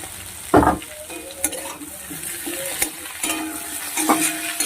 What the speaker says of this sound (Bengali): হালকা করে সবজির সঙ্গে আমি আদাটাকে ভেজে নেব